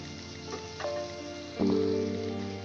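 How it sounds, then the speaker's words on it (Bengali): Chopped tomatoes frying in a pan with salt for an egg curry, a soft sizzle with a few stirring scrapes and a louder surge near the end, close and without talking. "এটা ভাজতে ভাজতে টমেটোটা প্রায় গলে গলে যাচ্ছে"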